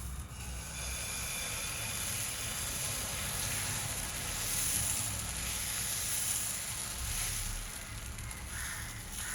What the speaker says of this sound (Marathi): तव्यावर डोशाचं मिश्रण घालूया.